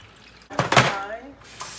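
Water splashes and gurgles briefly into a sink as soapy water is drained from a drawer holding lip gloss wand tubes, a short burst that fades quickly.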